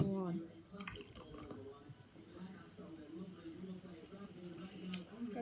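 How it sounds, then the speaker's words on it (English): Pepsi Max Cherry is poured into a glass with a faint, continuous trickling and dripping fizz, quiet and close, while a person talks over it. "let's pour it into the glass in 3,"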